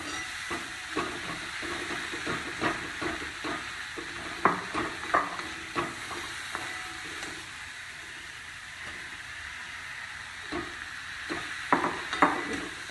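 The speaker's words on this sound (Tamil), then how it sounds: "கொஞ்சம் தண்ணி ஊற்றி வேக விட்டுடலாம், எல்லாம் ஒன்றா ஆகி வர வரைக்கும்" Potato masala with green peas simmering in a pan after water is added, giving a steady low hiss and sizzle with repeated light stirring clicks and scrapes, close and fairly quiet, with no talking.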